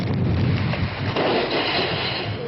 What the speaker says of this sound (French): la pluie et le vent s'abattent toujours sur l'île de la Réunion